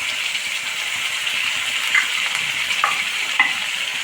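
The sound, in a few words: sautéing tomatoes with mint and coriander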